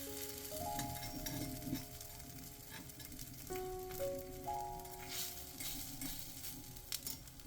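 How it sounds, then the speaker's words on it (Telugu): A moong dal omelette frying in a pan after being flipped, a quiet, even sizzle with faint clicks and a soft melodic tone playing over it. "అలా తిప్పి వేయండి."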